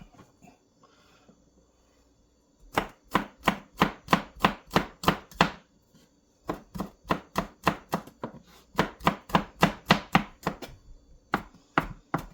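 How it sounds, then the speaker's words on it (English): A knife roughly crushes and chops garlic on a cutting board while vegetables are prepared for ratatouille. Brisk, evenly spaced chops come close and clear in three quick runs, with no talking. "And some garlic, just give it a squash."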